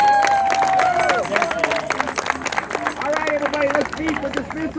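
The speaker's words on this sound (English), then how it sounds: "Let's give them a round of applause" A crowd claps and cheers for children after their drill performance, loud, busy clapping mixed with excited voices and chatter throughout.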